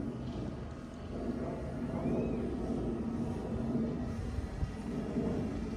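A DJI Phantom 3 Pro drone in flight, a steady, moderately quiet whirring hum of its motors that holds throughout, fairly distant, with no talk.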